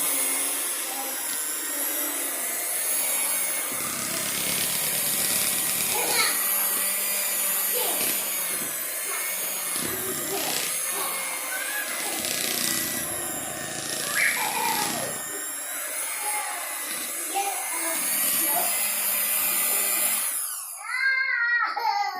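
Electric hand mixer whirring steadily through buttercream icing, a loud continuous motor drone with a slightly rising and falling pitch that cuts off near the end.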